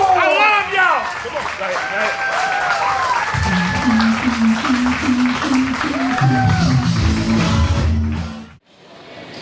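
Audience applause at a CWF Mid-Atlantic pro wrestling show, a crowd clapping and cheering throughout while someone talks over it, then dropping away abruptly near the end.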